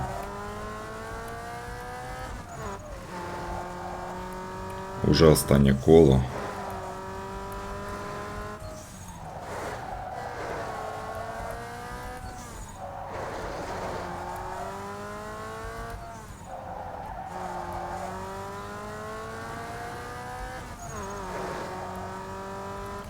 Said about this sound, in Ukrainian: Ого, як розганяється автомобіль.